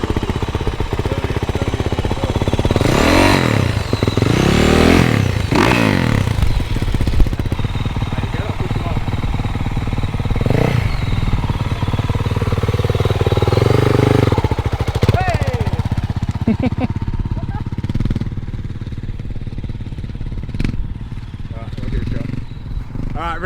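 A 450 motorbike engine revved with the throttle, rising and falling in several sharp bursts near the start, then idling more quietly, with voices talking over parts of it.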